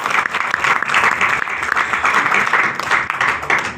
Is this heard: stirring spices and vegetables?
no